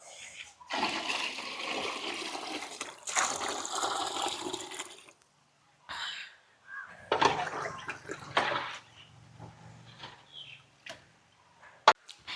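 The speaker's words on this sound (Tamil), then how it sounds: "இப்போ நாங்கள் தண்ணியை விடுவோம்." Water poured from a bucket into a large pot while cooking chicken dum biryani over a wood-fire stove, heard as bursts of splashing and gushing with pauses between, fairly close, along with clanks and a few voices.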